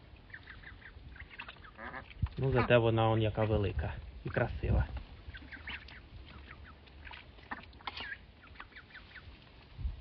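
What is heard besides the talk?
domestic duck quacking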